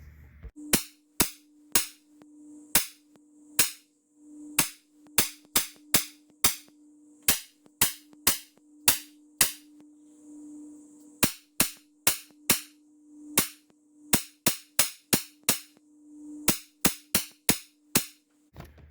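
A Sig MCX Virtus PCP air rifle firing pellets, sharp close cracks at irregular intervals, sometimes in quick pairs or runs, over a faint steady hum, with no talking.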